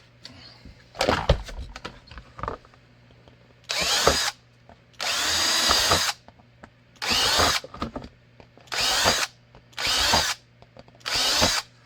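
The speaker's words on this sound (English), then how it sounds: "Drill the outside holes." A power drill whirs in short, loud bursts while drilling holes in wood, about seven in a row with brief pauses between, after some scraping and handling noises at the start.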